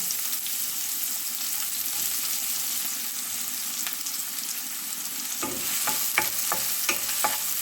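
Chopped onions fry in oil with toasted cumin seeds, a loud continuous sizzle, then a run of stirring scrapes and clatters toward the end.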